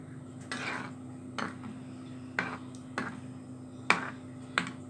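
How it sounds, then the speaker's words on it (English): A metal lid clinks onto a pan of egg masala curry in a home kitchen, a few light taps and clatters spread out over a steady low background hum. "So after adding 2 spoons of masala powder, you have to close with this lid."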